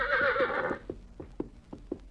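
A horse gives a loud shrill whinny, followed by a few soft clip-clop hoof steps as it slowly walks forward.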